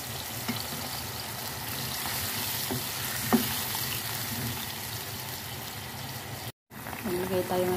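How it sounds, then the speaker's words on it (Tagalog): Carrots and cabbage fry in a pan with a steady hiss and sizzle, moderately loud and continuous, broken by a brief dropout near the end. "ilagay na natin yung carrots at saka yung repolyo para maluto po siya"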